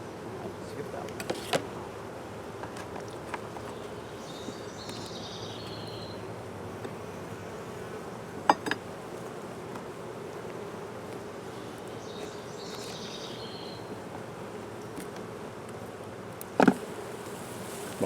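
Honey bees hum steadily around hives in an apiary, a continuous buzz with occasional louder passes near the listener, broken by sharp clicks and knocks of hive handling.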